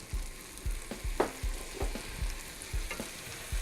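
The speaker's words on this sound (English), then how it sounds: "now we're going to continue to saute this for 5 minutes until the apples have lost a lot of their moisture and half of their volume" Apples sautéing in a pan with sugar, cracked black pepper and Vermont maple syrup: a steady close sizzle broken by regular stirring scrapes and soft knocks, with no voices.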